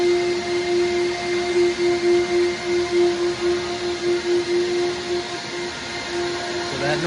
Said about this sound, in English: That noise we hear right now is basically just the suction to suck it, everything down to the surface, keep it from moving around.